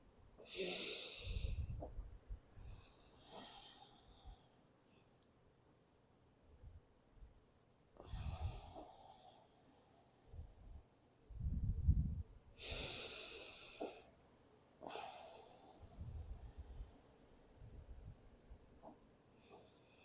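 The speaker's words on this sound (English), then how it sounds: "We're going to take 3 active deep breaths." Three deep, active breaths taken during a hip-opening yoga session, each a loud, close inhale and exhale with airy, snort-like sharpness, spread evenly across a quiet room with soft pauses between them.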